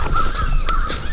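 Several crows caw repeatedly in reply to a crow-and-hawk fight call during a crow hunt, loud, harsh calls close by over a steady outdoor background.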